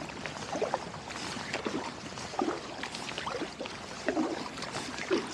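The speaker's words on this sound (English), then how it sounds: "I just love the sound of the water when I'm paddling" Water sloshing and dripping from a kayak paddle on a calm waterway off Long Island, quiet repeated splashes and trickles at an unhurried rhythm, close up and soft.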